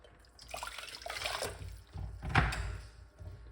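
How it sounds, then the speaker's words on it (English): Water splashes and pours briefly into a container, with a louder slosh near the end; quiet and close, no voices. "Put the water into the pot"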